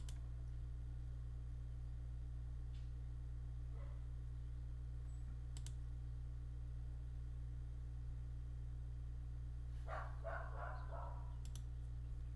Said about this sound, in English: My dogs are going crazy in the background.